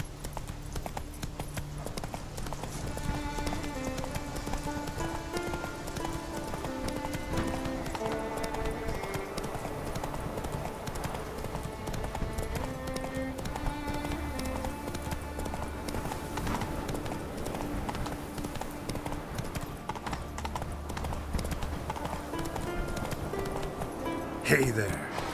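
Horse hooves clip-clop steadily at a gallop in The Witcher 3 video game, a rhythmic drumming under continuous game music and spoken dialogue throughout.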